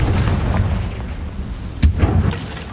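A Confringo blasting spell goes off in the Hogwarts Legacy video game, with a dense, rumbling roar and a sharp cracking burst near the middle, followed by a few softer thuds.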